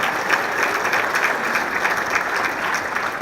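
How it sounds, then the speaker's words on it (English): A hall audience at a Marion, Iowa State of the City address breaks into steady, dense applause, many hands clapping evenly and loudly for the full few seconds with no voices over it. "you can applaud"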